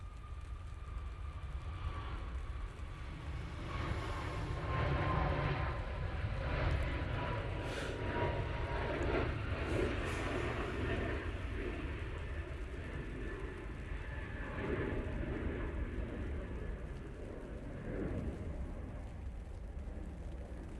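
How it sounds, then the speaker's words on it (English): A Ryanair Boeing 737 MAX begins its takeoff roll at Manchester Airport, a broad sustained jet roar with a rising whine, steady and fairly distant, holding at an even level for the whole stretch. "Ryanair 737 Max on the roll"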